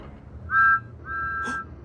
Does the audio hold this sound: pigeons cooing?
no